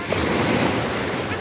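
Sea waves washing onto a pebbly beach at Soli near Mersin make a brief, steady roar of surf mixed with wind buffeting the microphone.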